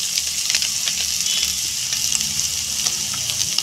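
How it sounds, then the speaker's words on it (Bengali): Shrimp, chopped onion and slit green chillies fry in a pan with salt, turmeric and Kashmiri chilli powder, giving a loud, close, steady sizzle with scattered crackles and occasional stirring scrapes. "দিয়েছি দুটো চেরা লঙ্কা আর সেই চিংড়ি মাছ আর পেঁয়াজ কুচিগুলো। এবার এইগুলোকে আমরা ভালো করে ভেজে নেব।"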